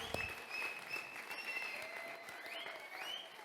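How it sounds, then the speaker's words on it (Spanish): Faint, distant audience applause at a church congress gathering, a soft steady patter lasting a few seconds with a faint tonal hum underneath. "Vamos a dar un aplauso a los que estuvieron ahí leyendo."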